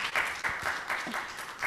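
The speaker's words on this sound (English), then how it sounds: "Can we give the panel a round of applause," A small conference audience claps for a panel at a session on globalisation and fundamentalism, a short burst of scattered, distinct hand claps that is fairly close and fairly quiet.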